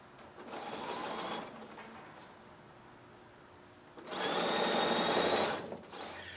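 A sewing machine stitches a log cabin quilt block in two loud bursts, a short run near the start and a longer steady run later, with a quieter pause between them.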